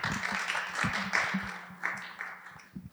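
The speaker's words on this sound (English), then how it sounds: "once again, let's give them a round of applause" Scattered applause from a student audience at a campus presidential debate, moderately faint and uneven, with a few louder claps standing out as it tapers off.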